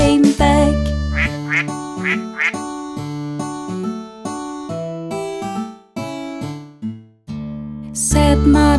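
Sung children's nursery rhyme about five little ducks with a bright electronic backing, the quacking rendered in rhythmic short bursts within the music, loud and upfront throughout.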